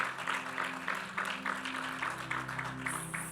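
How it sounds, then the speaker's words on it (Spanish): A church congregation claps for the Lord, a steady, moderately loud wash of applause with a regular pulse of hand claps that carries on throughout without talk. "Démosle un aplauso al Señor."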